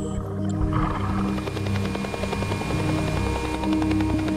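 Steady rotor drone of a helicopter flying over frozen Arctic waters, a constant low throbbing hum held evenly throughout.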